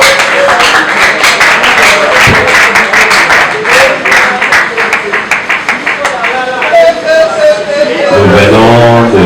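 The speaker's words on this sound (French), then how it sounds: "Acclamons très fort." Church congregation applauding loudly after a call to cheer at a religious gathering: dense, sustained clapping with cheering voices and crowd noise throughout, fading into talk near the end.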